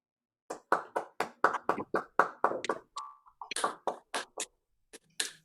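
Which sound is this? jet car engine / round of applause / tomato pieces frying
round of applause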